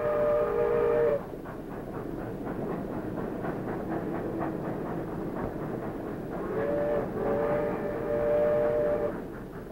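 A banana railway train runs through a tropical country in 1950, its steady rolling rumble carrying on throughout, with a whistle-like tone sounding at the start and again near the end.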